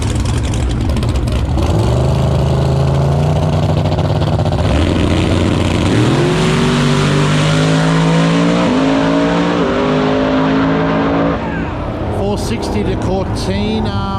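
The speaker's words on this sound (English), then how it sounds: "Twin turbo versus centrifugal blower." Two drag race cars, one twin-turbocharged and one with a centrifugal blower, launch and scream through their gears with loud, rising engine tones and sharp shifts, roaring close by throughout before the sound cuts off near the end.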